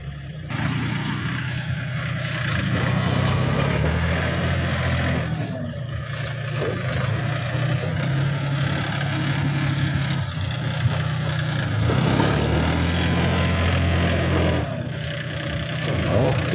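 A tractor engine works steadily while levelling a residential street, a loud continuous low rumble with swelling revs and load changes throughout, no voices over it.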